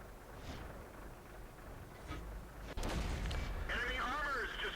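The 85mm gun of an SU-85 tank destroyer fires in World of Tanks, a single sharp booming shot that cuts through a low game rumble, followed by someone talking.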